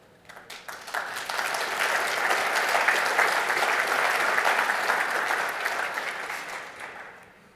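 A keynote audience at a partner conference applauds, clapping swelling quickly into a full, sustained ovation for several seconds before tapering off, with no voices over it.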